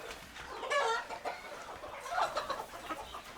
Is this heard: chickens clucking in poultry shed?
yes